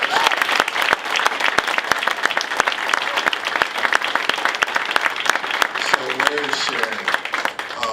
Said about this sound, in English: So can we give a round of applause to our...